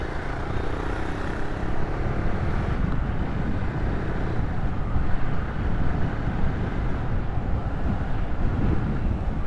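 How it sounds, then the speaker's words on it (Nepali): Wind buffets a microphone during a ride on a KTM Duke 250 motorcycle, producing a constant low roaring rumble. The rumble is dense and steady for the whole stretch, with no voices. "हावा चलिरहेछ"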